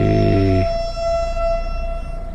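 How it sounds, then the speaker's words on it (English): A train horn blares in a deep chord near a high-speed train in Andorra, then cuts off, leaving a lingering high tone over steady background rumble. "that's definitely a horn coming from somewhere"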